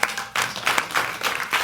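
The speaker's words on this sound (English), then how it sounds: "Clap if you have children" Audience clapping at a stand-up comedy show, a short burst of scattered applause in uneven waves, moderately near and on its own.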